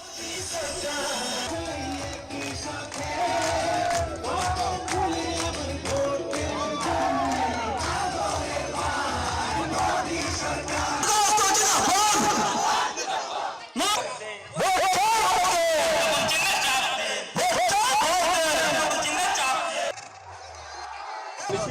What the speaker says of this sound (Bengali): বিহারা সমর্থকদের জয়ধ্বনি স্লোগানে মুখরিত চারদিক